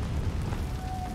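A Confringo blasting spell detonates in Hogwarts Legacy, giving a short, muffled, rumbling burst with a low crackling tail and no speech.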